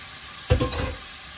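Sausage drops into a hot pan with a dull thump, then sizzles close by with a steady hiss as a cornbread oyster dressing cooks. No one speaks.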